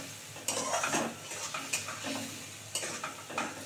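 Spices with Kashmiri red chili being stir-fried in a pan, soft frying sizzle under repeated scraping strokes of a spoon against the metal, close and fairly quiet, no talking.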